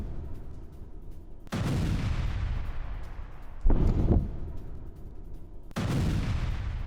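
Explosions and shelling from an attack on Kyiv, heard as several deep, loud booming blasts spread over a few seconds against a steady low rumble, with no talk.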